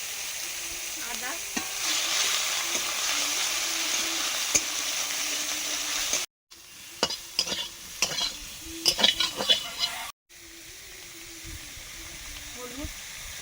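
Spice paste of ground onion, cumin, ginger, turmeric and chilli with a little water frying and being stirred in a pan for a rohu fish curry, a steady close sizzle with repeated scraping stirs and a brief louder clatter.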